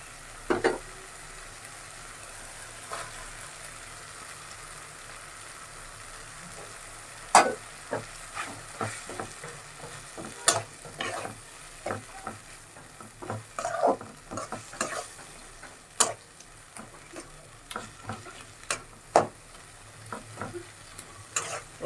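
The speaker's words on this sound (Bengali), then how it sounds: "এখন অনেকক্ষণ নাড়াচাড়া করবো এটাকে একদম ভাজা ভাজা করে নিব" Boiled cabbage fries in a cooked spice paste for a mashed cabbage dish, with a soft, steady sizzle under irregular spoon scrapes and taps against the pan as it is stirred again and again.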